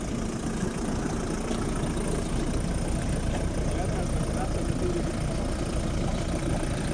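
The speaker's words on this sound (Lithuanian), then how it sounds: "variklį pavyko užvesti" Engine of a vehicle stuck deep in mud, idling after finally being started: a steady, uninterrupted low rumble with rough knocking texture, running on at even loudness throughout.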